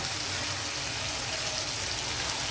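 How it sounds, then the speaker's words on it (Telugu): Tap water runs steadily into a mixie grinder jar as it is rinsed after grinding Andhra-style cactus leaf chutney, a close, even gush with no talking. "అయితే కొద్దిగా మిక్సీ జార్ కడిగి నేను నీళ్ళు వేస్తాను"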